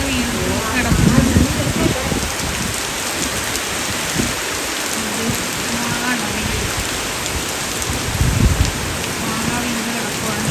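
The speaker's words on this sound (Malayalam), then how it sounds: "അതേ നല്ല സൂപ്പർ മഴയാണ്" Heavy night rain pouring steadily onto surfaces near a mango tree, a loud continuous wash with scattered heavier drips and thuds, while someone talks over it.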